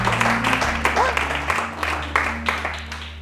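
A church congregation claps in a steady rhythm to acclaim God, the applause running throughout beneath a sustained organ-like tone while voices call out.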